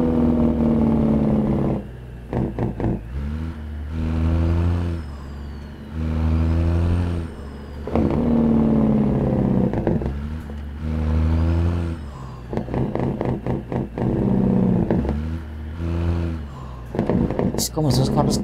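Dodge 900 truck in American Truck Simulator, its engine droning loud and close in repeated bursts with rough, crackling engine-brake pops between pulls; a person talks over parts of it.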